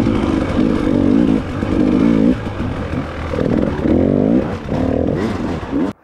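A 300 dirt bike engine at a hare scramble, revving in several throttle blips with rising and falling pitch, loud and close, then cutting off abruptly.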